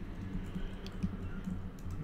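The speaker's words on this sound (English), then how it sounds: "what I need to do is type like this" Light keystrokes on a computer keyboard while coding JavaScript, a faint, irregular patter of soft clicks over a low background hum with no talking.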